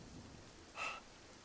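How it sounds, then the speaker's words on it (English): Steady rain hisses throughout while a brief thunder crack bursts out near the middle, loud and sharp against the continuous downpour, with no voices present. "lightning thundering from up above."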